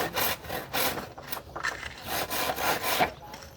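Hand saw cutting through soft wood while a hut frame is built, a quick series of rasping back-and-forth strokes, close and fairly quiet.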